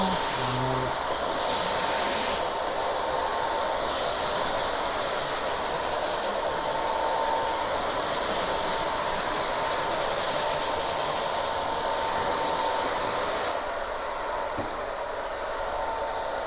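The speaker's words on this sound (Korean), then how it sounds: "100만 원대 드라이기" A high-end hair dryer blows with a steady, loud whooshing hiss in a hair salon, continuing without a break and shifting in tone slightly as it moves.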